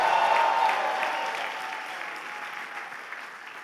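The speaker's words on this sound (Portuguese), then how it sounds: "Então dá um aplauso a Jesus aí." Church congregation applauding, a loud dense burst of clapping that gradually thins and softens, with a faint voice near the start.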